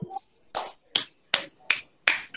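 Sharp claps or snaps come from children during an online class, six quick separate hits spaced about every half second, nearby and with nothing else heard.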